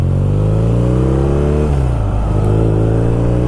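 A BMW R nineT Scrambler motorcycle, a 500-pound bike with 110 horsepower, pulls hard in second gear, its loud close engine note climbing steadily, dipping briefly midway, then surging again.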